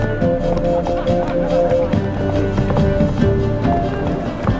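The horse Roach galloping in The Witcher 3, fast loud hoofbeats in a steady rhythm, close and prominent with some voice mixed in.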